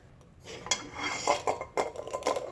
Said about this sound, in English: I'm gonna boil these in a pan.